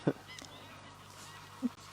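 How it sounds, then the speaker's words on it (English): Geese honk loudly at a countryside farm in Rutland near Leicester, one sharp honk at the start and another shorter one near the end, over a steady low background hum. "It's birds, man. Jeepers, it's like in the countryside."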